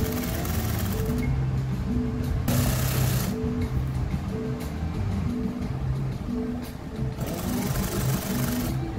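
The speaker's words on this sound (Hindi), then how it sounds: "ये कमीज की बैक साइड से सिलाई शुरू कर रहे हैं" A sewing machine stitches dori piping onto a kameez, loud and close, its rapid mechanical chatter running in bursts with brief pauses between them.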